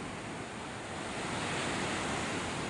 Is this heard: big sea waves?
yes